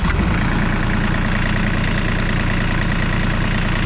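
A John Deere 3035D compact tractor's diesel engine idles loud and close, giving a steady low rumbling chug throughout after a brief start at the beginning.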